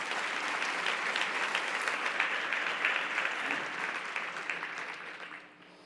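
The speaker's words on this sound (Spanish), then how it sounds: "Y dale un aplauso a Dios con todo tu corazón." Church congregation applauding in a Spanish-language service, dense sustained clapping from many hands that fades out near the end.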